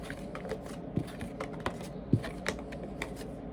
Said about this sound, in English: Let me get another card